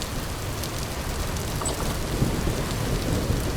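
Heavy rain pours steadily with rumbling thunder underneath, a loud continuous downpour hiss with occasional sharper drops and rolls, no talking.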